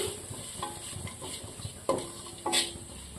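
Sliced onions with salt being sautéed and stirred in a pan for an egg stew: soft sizzling under scraping spoon strokes, with a couple of sharper clinks of utensil on pan near the end.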